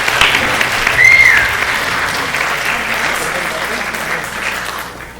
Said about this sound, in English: Can we get another round of applause for Namita?